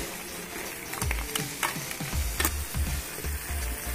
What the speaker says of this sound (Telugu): ఇలా క్రాబ్స్ వేసాక బాగా కలుపుకోవాలి